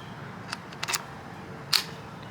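The bolt of a Nova N4 Odin mechanical paintball marker slides with a few quick, faint metallic clicks and one sharper clack near the end, close up and quiet, with no speech.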